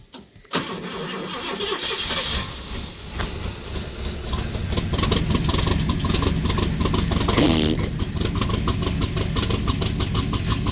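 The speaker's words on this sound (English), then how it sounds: "now it's blown the muffler out, won't stop backfiring" A Ford Falcon Fairmont engine with a blown-out muffler starts and runs rough and loud nearby, a harsh uneven exhaust roar with irregular popping.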